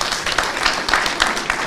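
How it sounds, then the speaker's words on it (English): Audience applause at a UDA party nomination certificate event at party headquarters, a dense, steady wash of many hands clapping with periodic swells, moderately loud and continuous throughout. "Please clap for him."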